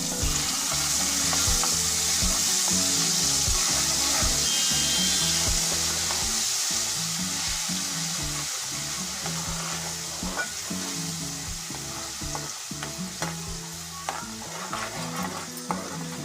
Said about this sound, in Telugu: రెండు టేబుల్ స్పూన్ల అల్లం వెల్లుల్లి పేస్ట్ వేసి పచ్చివాసన పొయ్యేంత వరకు ఆయిల్లో బాగా ఫ్రై చేసుకోవాలి